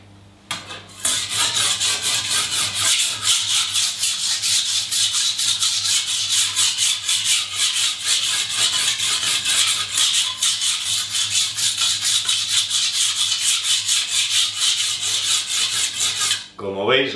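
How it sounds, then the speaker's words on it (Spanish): A 40 cm Chinese knife is being sharpened on a diamond plate, its blade scraping in rapid, regular rasping strokes that continue steadily and close up for about fifteen seconds before stopping, with no talk. "vamos a corregir primero los biseles con la placa de diamante"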